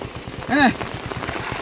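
Heavy rain pours down in Jaffna, Sri Lanka, a dense, steady hiss and patter up close, with a brief voice cutting through midway.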